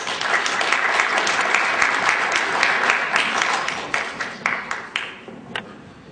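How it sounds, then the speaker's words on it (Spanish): Audience applause at a legal lecture for Dr. Giovanni Criollo, a steady wash of clapping that thins out and breaks into scattered individual claps before dying away. "con un fuerte aplauso de ustedes, al doctor Giovanni Criollo"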